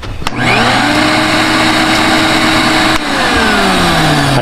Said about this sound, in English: I think the vacuum cleaner's back in business now.